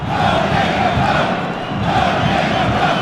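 A soccer supporters' section in the Nordecke stands, a dense roaring crowd chanting loudly and continuously in rhythmic swells, close and overwhelming throughout.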